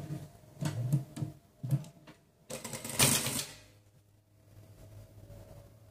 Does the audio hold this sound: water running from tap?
no